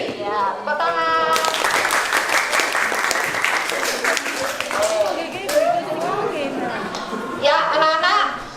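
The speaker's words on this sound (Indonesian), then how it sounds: "Ya, tepuk tangan." Classroom of children clapping in a morning lesson, a burst of lively applause with excited young voices chattering and calling out over the hands, fairly loud and close throughout.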